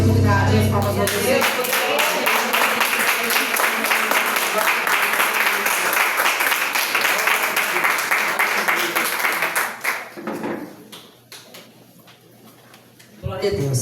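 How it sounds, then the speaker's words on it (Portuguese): Applause rises in a Portuguese-language church communion service, a dense spread of many clapping hands lasting about nine seconds before thinning out into quieter room sound. "as palmas para você"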